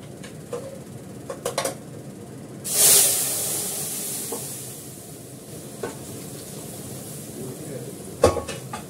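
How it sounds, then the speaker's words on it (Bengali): Mustard seeds and dried chillies hit hot oil to temper sour dal, a sharp bright sizzle bursting up at once and then settling into a steady softer crackle, with a few clinks of a utensil against the pan. "টক ডালটা ফোড়ন দেওয়ার জন্য সর্ষে আর শুকনো লঙ্কা দিলাম।"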